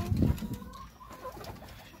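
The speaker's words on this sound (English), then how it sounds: "Good chicken." Backyard chickens, including silkies and a rooster, make low soft clucks and coos close by, starting louder then fading to quieter murmuring, with no talking.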